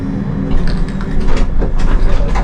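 Land clearing machine turning as it climbs out of a hole, giving loud, close mechanical clanking and grinding over a low rumble, with irregular metallic knocks throughout.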